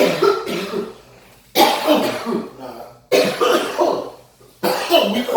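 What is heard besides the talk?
people coughing after smoking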